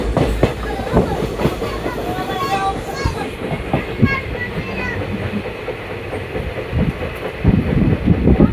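A passenger train on a morning journey from Belagavi toward Mysuru rolls steadily along the rails, with continuous close rumble and rhythmic wheel clatter filling the whole stretch.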